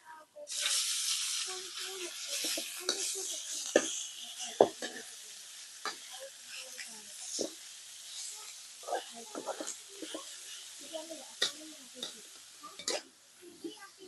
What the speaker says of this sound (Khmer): យើងឆាសាច់របស់យើងឲ្យរាងឆ្អិនបន្តិច